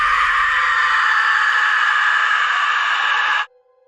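A woman screams in a horror story, one long, loud, sustained wail that holds steady for several seconds and then cuts off sharply into near silence.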